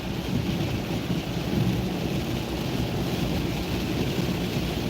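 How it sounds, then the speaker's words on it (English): Steady heavy rain with a low rumbling roar throughout, heard from inside a car driving at night in a storm, no talking. "Still raining. It's getting worse."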